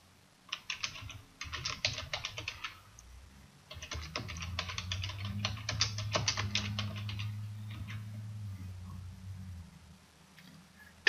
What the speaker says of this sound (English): To start, type in a title for this list.